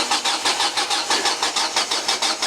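A car engine cranks over with a steady rhythmic starter churn, about a dozen even pulses, loud and close, while it struggles to fire.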